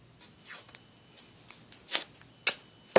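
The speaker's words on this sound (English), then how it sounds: "So I'm going to use masking tape because you don't want to get your etching cream anywhere but in the design itself" Masking tape pulled off the roll and pressed over a glass etching stencil, with a few short, scattered crinkling and tearing bursts close by and quiet gaps between them.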